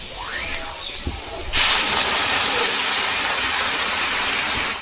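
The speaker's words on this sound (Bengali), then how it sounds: "আর এদিকে দেখো আলুতে দেওয়ার জন্য জল গরম হচ্ছে।" Water heating in a pot on a home kitchen stove for a potato and fish curry gives a steady broadband hiss that jumps louder partway through and holds, with a brief knock early on and no talk.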